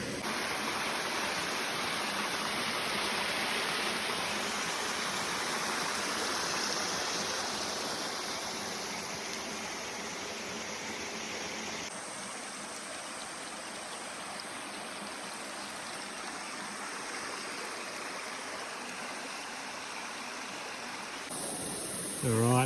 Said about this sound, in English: Looks like that top of the waterfall is just over there.